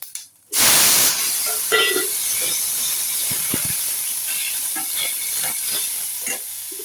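Karivadagam dropped into hot sesame oil for an egg curry: a sudden loud burst of sizzling that settles into a steady close hiss with scattered crackles and pops, no talking.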